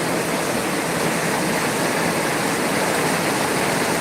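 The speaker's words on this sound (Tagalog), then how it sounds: "Napakalakas po ng ulan." Dense, roaring downpour of very heavy typhoon rain (Typhoon Nando) fills the air with a constant loud hiss, no voices or breaks, pounding close by.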